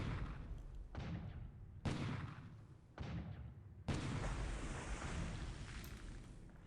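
Naval guns fire during a Pacific war strategy game set in December 1941, a handful of muffled booming blasts roughly a second apart, each with a rumbling decay, faint and distant.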